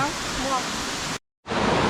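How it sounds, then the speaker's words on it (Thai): A hot spring waterfall in Krabi, Thailand, pours as a steady broadband rush close by, broken by a short silent cut, with faint voices over the water early on. "บรรยากาศน้ำตกร้อน ของท่อมนนทกระบี่ครับ"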